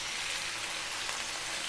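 Pork sizzles and spits hard in sunflower oil over high heat, a loud, steady, close frying hiss with no one talking.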